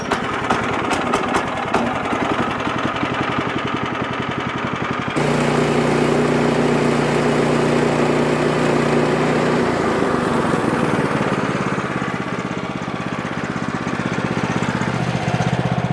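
A small petrol engine, choked and fuelled for cutting a large log, runs with a rapid rattling putter, then settles into a steadier, louder drone with a shift in pitch partway through, close and continuous.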